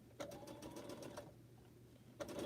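A sewing machine stitches quilt pineapple blocks in two quiet runs: a rapid rattling burst of about a second, a short pause, then another burst starting.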